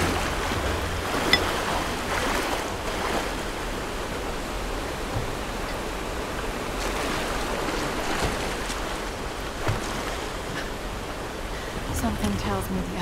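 Waterfall water in the Tomb Raider reboot video game roars as a dense, steady wash of noise for the whole stretch, with occasional brief splashes and knocks, and someone talks over it.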